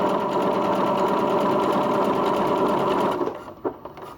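A sewing machine stitches two pieces of trouser fabric together in a fast, even whirring run for about three seconds, close and loud, then slows and stops with a few light clicks.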